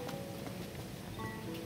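Rain falls on a campsite in the Final Fantasy XV video game, a steady, dense patter of rain that stays constant and fills the whole scene.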